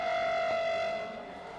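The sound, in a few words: civil defence sirens going off in Delhi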